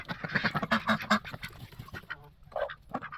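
Several ducks quack in a quick, overlapping burst, then a few scattered quacks follow, close by and fairly loud.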